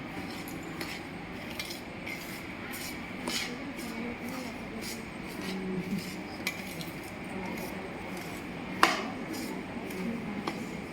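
A ladle stirs melted sugar in a pan, giving a soft, steady scrape with light metallic clinks. One sharper clink stands out near the end, and a faint voice may be present in the background.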